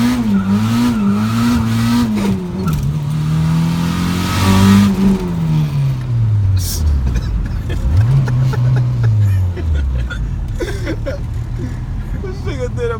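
A turbocharged B20 Honda car engine accelerates hard from inside the cabin, its pitch climbing and dropping through gear shifts, with voices talking over the roar.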